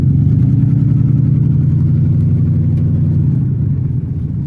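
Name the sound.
car driving up and turning around on a slick slope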